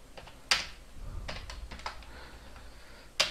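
Keys tapped on a computer keyboard while code is written, a few soft scattered clicks with two sharper louder strikes, close and quiet with no talk.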